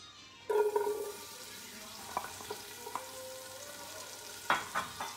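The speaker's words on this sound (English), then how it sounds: "And we pour the onion." A sudden sizzle as onion drops into hot oil, then softer crackling and a few sharp scraping clinks as it is stirred.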